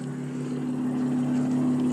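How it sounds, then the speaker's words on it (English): An Audi S4 idles with an exhaust leak, giving a steady, low droning rumble with a constant hum and a slightly raspy edge, heard close and unbroken. "You can hear that exhaust leak real bad from here."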